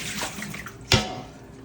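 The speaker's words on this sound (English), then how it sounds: "Can you see the water dripping out of the pot?" Water runs and drips out of holes in a leaking pot, a soft, steady trickle with one louder splash near the middle and no talk.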